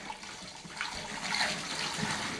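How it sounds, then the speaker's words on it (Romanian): Water running steadily into a bucket, filled about halfway, a broad splashing hiss that swells slightly midway and continues without a break, with no talk over it. "Dar nu pune multă apă. Pune jumătate găleată."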